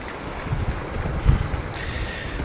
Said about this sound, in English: This wind really is something to work around.